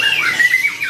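A caged red siskin finch of the double dilute colour variety calls at a bird market, giving a loud, close, continuous high-pitched warbling squawk that rises and dips in short slurred notes.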